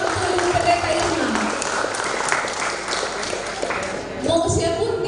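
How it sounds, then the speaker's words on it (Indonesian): Church audience applauding Pastor Irma at a Christmas celebration, a steady broadband wash of clapping held throughout, with voices mixed in underneath. "Berikan tepuk tangan yang meriah untuk Pendeta Irma."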